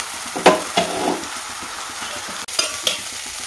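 Amaranth leaf dal sizzles in a pan while a spoon stirs it, with several scraping strokes and soft clatters over a continuous frying hiss, close and fairly loud.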